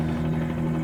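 Steady, loud rotor drone of a Bell 47 helicopter in a flight simulator, a constant low buzzing hum with no pauses.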